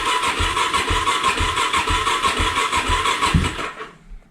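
A Suzuki DRZ400S motorcycle engine cranks over in a steady, rapid rhythm of starter pulses without catching, running close and loud for about three and a half seconds before stopping abruptly.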